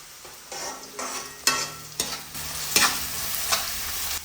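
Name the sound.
sautéing onions and curry leaves in oil in a pan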